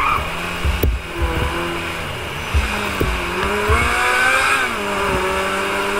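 Trike engine in Grand Theft Auto Online revving and accelerating, pitch climbing and falling through several gear changes, with a sharp bang near the start; loud and close with no voices.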